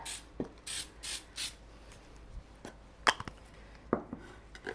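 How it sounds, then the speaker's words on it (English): Several short hissing bursts of cooking spray into a 9 by 13 baking pan, four in quick succession, followed by light knocks and scrapes of the pan. "I'm going to spray my pan."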